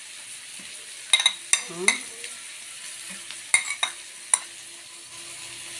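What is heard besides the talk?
garlic and green pepper frying in a pan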